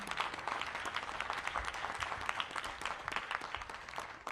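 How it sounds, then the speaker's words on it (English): A large audience at a downtown civic event applauds steadily, a dense sustained patter of many hands clapping at moderate distance with no speech over it. "So give yourselves a big round of applause."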